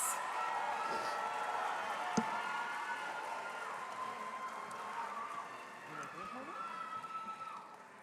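A high school graduation crowd gives another round of applause and cheers for an advisory class: a steady, fairly distant wash of clapping with scattered whoops, plus a sharp knock around the two-second mark.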